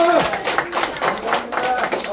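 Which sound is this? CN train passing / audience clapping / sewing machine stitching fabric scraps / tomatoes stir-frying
audience clapping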